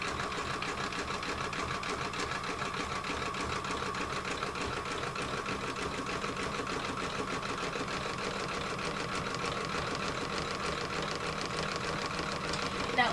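An embroidery machine stitches a centre line, a zigzag and a satin stitch on a stained glass table runner, a fast, even mechanical whirr and needle chatter that runs steadily throughout with no talking.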